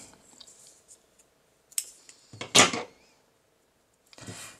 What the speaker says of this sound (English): now we can fasten off and cut the yarn